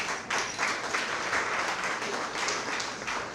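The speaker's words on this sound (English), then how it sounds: "You deserve a round of applause" An audience at a public-service awards event gives a round of applause, a continuous wash of clapping at moderate level with no voices over it.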